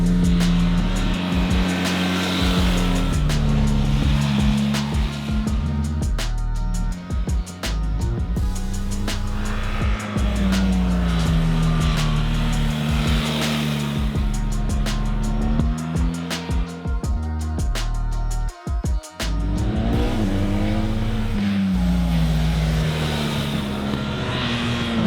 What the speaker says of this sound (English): I rode the new BMW R 1300 GS here in southern Spain